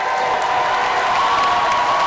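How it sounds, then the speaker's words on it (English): A basketball crowd giving a standing ovation at Jerry Matthews Court during an NCAA Division III tournament game, with dense, sustained applause and crowd noise filling the arena, loud and continuous without pause. "DJ Campbell leaving and getting a standing ovation from the crowd here at Jerry Matthews Court"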